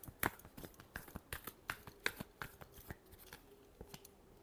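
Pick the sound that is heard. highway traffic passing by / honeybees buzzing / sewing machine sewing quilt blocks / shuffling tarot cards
shuffling tarot cards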